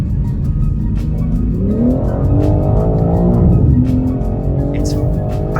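A 2023 BMW M3 Competition driven hard, its engine loud and near, revving through rising pitch sweeps with clicking and a brief tire squeal near the end, while someone talks over the top.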